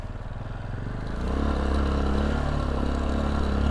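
A motorcycle engine labouring up a steep slope at an adventure park in San Mateo, Rizal, its low drone rising and holding steady and loud after the first second, with faint clatter and no talk.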